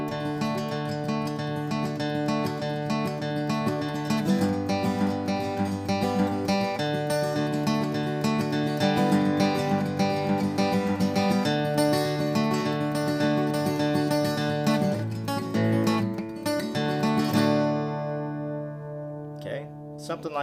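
An acoustic guitar strums a song in a steady picked-and-strummed pattern, full and close, then rings out and fades near the end.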